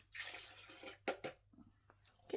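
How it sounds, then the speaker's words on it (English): Dirty paint water from blending Powertex colours poured away, a burst of splashing and trickling followed by separate drips and small splashes, close and fairly faint. "I'm going to now just get rid of this water"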